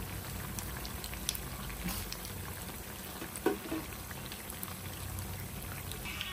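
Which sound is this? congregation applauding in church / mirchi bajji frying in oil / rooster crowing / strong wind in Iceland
mirchi bajji frying in oil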